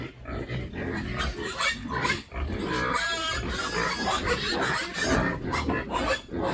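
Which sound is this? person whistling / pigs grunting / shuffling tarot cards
pigs grunting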